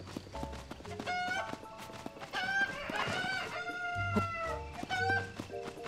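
Chickens in the video game Zelda: Tears of the Kingdom, repeated clucks and squawks from several birds over a busy game soundscape with steady hoof-like clopping underneath.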